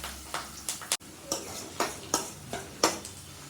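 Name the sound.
onion frying in oil with mustard seeds and curry leaves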